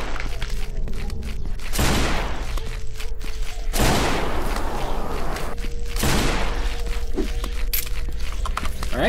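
Gunfire in the video game Remorse: The List, with three heavy blasts several seconds apart, each a loud broadband burst that decays slowly over a droning background hum.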